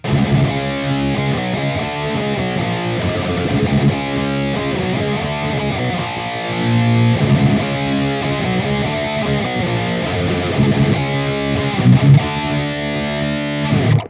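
Heavily distorted electric guitar through a DigiTech Metal Master distortion pedal plays loud, sustained chords and riffs with a thick, buzzing crunch, steady and unbroken.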